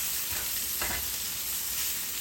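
Mushrooms sauté with all-purpose seasoning in a pan, a faint, steady sizzle with one brief scrape of stirring near the middle.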